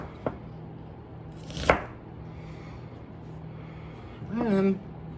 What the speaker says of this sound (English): We're just cutting some onion, okay?